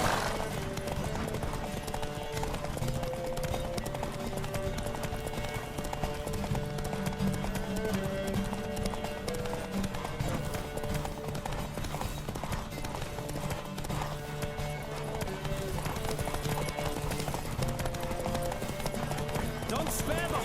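Steady rhythmic clip-clop of horse hooves galloping in The Witcher 3, running continuously beneath game music and a voice talking throughout.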